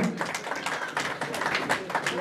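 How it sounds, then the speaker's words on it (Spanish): An audience at a carnival festival gathering in San Pedro de Cajas gives steady, dense applause, a continuous wash of many hands clapping at moderate distance. "Fuerte de las palmas, por favor"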